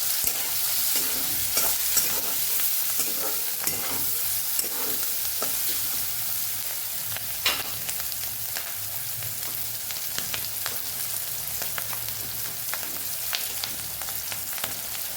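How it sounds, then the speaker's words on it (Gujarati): Green chillies sautéing in hot oil with turmeric and coriander-cumin powder for a Gujarati chilli sambharo, giving a steady, even sizzle with faint stirring clicks and no voices. "મરચાં તળાઈ જાય ને એવી રીતે આપણે સરસ એને સાતળી લેવાના છે"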